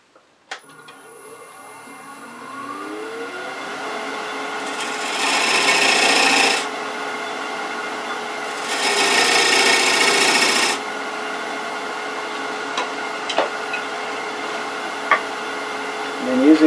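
V scraper cutting bead marks into a green wood potpourri bowl spinning on a lathe, a steady raspy scrape under the lathe's hum, with two louder, harsher bursts of cutting.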